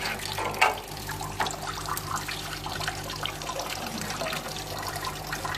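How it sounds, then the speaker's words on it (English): An electric pump on a refrigeration air cooler pushes water through the system. The water runs in a steady, close trickle and splash over a constant low hum, with a slightly louder surge near the start. "When I switch on this pump, you can see here the water is flowing."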